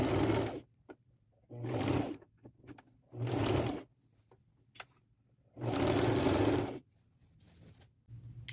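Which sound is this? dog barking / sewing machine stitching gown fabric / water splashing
sewing machine stitching gown fabric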